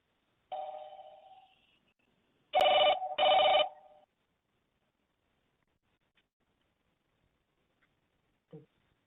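Telephone ringing as a call connects, an electronic tone followed by two loud steady rings in quick succession, then silence with a faint click near the end.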